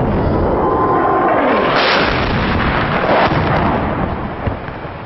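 A night-time rocket attack on a camp, heard as a loud, continuous roar with a booming explosion burst near the middle that rumbles on and slowly fades.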